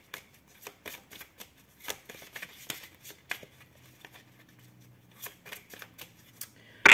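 A deck of tarot cards is shuffled and cut by hand, with a run of quick riffling flicks and soft card slaps, intimate and quiet, ending with a brief louder knock.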